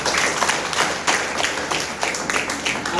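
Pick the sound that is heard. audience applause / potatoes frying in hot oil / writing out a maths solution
audience applause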